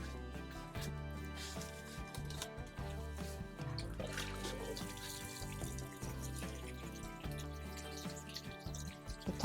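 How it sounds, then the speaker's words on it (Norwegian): Water trickles and splashes steadily from a watering can onto tomato plants in a greenhouse, a quiet continuous pour with soft dripping, heard close up. "Så vann."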